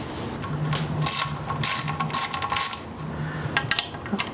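A ratchet clicks in short rapid bursts while the valve cover comes off a Ford Ranger truck engine, with close metallic ticking and a few light clinks between strokes.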